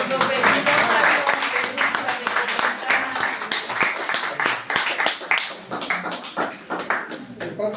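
An audience applauds in a mix of scattered and bunched claps that thin out toward the end, with people talking over the clapping.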